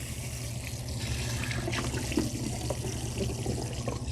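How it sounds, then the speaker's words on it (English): Water gushes continuously from a hose during a mannequin hair wash, a steady close rushing stream with no talk. "Make sure that you're holding this hose before you turn on the water."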